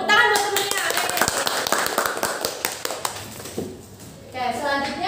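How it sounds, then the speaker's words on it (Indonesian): Schoolchildren clap for a classmate in a classroom, a burst of sharp, fairly close hand claps that thins out and stops, with a teacher's voice and children talking around it. "Tepuk tangan buat temennya."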